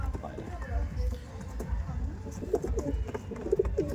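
Aggressive Andhra, Kaldom and Kalanka breed pigeons give short, soft coos near the end, half buried beneath a man's close, continuous talking and some shuffling.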